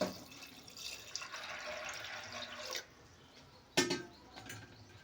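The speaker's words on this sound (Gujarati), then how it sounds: "પહેલાં આપણે આમાં પાણી એડ કરીશું" Water pours steadily into a pot of soaked chana dal for boiling, a continuous close splashing flow that stops midway, followed by a brief clink and a faint trickle.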